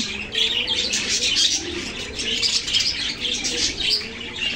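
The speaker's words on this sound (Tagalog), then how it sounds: "Yung dati kong mga alagang parakeets." Several pet parakeets in a cage chirp continuously and close, a busy overlapping chatter of bright tweets with some wing flutters and no talking.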